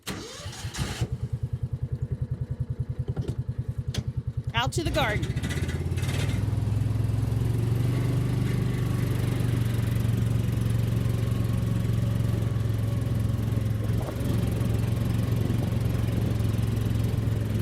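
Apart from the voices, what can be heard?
tractor engine running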